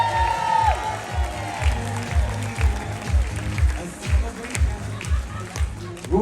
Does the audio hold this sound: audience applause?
yes